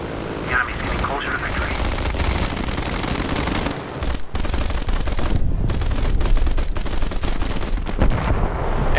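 Sustained rapid machine gun fire from the rear gunners of a World War II B-17 bomber in a flight combat video game, continuous loud bursts with booming impacts throughout and voices talking over it.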